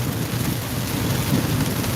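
Steady outdoor rain pours without a break, a dense broadband hiss with some low rumbling wind and buffeting, close and constant for the whole stretch, with no voices.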